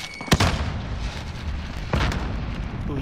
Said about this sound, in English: Hold this grenade, Amari!